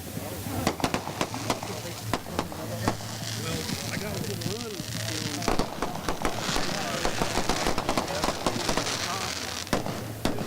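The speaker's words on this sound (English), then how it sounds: "As the fireworks continue to go off here at Lake Ozark Speedway." Fireworks burst over Lake Ozark Speedway in a dense run of sharp cracks and pops. They sound fairly close, with a crackling sizzle between the reports and voices talking underneath.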